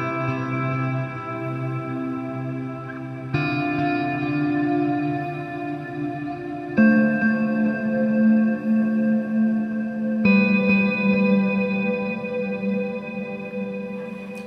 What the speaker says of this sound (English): We can add the delay and the reverb. It sounds like this.